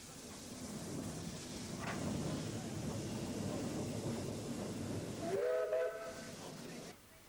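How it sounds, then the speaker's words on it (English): Steam locomotive Number 24 arriving at Tenterden Town on the Rother Valley Railway, past the signal box: steady chuffing and hiss, then a short tonal steam whistle near the end. "Number 24, arriving at Tenterden town, passes the signal box"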